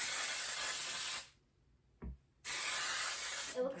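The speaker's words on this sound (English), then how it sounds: "We are also using the Pam baking spray." Two bursts of Pam baking spray hiss up close onto a baking dish, separated by a short pause with a soft thud, the second burst starting abruptly.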